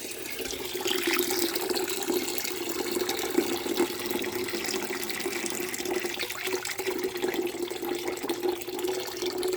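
Water drains out of a heating expansion tank in a steady, continuous gush that runs unbroken throughout, close by, with no voices.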